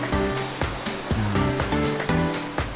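Ocean waves rolling in and crashing on a shore during onshore ultralight fishing, a loud continuous roar with repeated surges and breaks, close and filling the space, with no voices.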